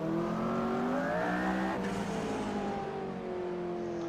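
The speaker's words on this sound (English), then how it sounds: "that turbo blow off," A McLaren P1 in the Assetto Corsa racing game screams through rising engine notes on Silverstone, with a brief sharp turbo blow-off hiss midway before the revs settle and climb again; no talking.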